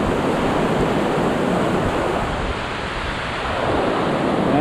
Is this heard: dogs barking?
no